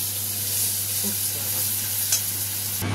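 Thick vegetable stems fry in oil in a wok, giving a steady, loud, continuous sizzle close by that cuts off abruptly near the end.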